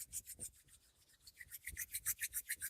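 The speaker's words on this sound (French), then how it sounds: "Je frotte mes mains" Hands rub together briskly and close up in a quick back-and-forth rhythm, making soft, repeated swishing strokes that speed up toward the end.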